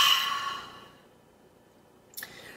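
A long exhaled breath during seated chair yoga, loud and close at first and fading into quiet, with a short sniff or breath near the end.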